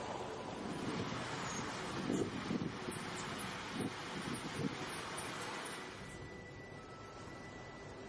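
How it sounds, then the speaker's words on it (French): Wind gusts steadily past the microphone at the seashore, mixed with a soft, distant wash of ocean waves, a low continuous rush with no voices. "Le vent souffle dans vos oreilles."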